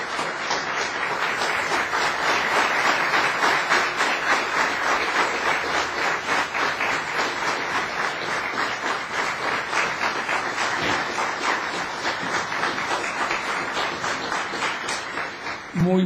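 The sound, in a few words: audience applause welcoming a speaker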